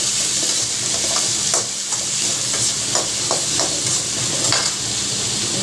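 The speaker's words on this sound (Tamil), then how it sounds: "நல்லா வதக்கணும்." Onion, tomato, garlic, green chilli and curry leaves sauté in a hot pan, with a continuous sizzle broken by repeated scraping taps of a spoon stirring every second or so, close up and with no talking.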